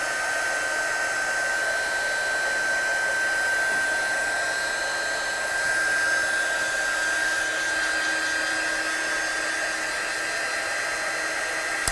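Hair dryer blowing steadily at close range to dry a watercolour background on a stamped Christmas card, a constant loud airy whoosh with a high whine, uninterrupted for the full duration and with no talking.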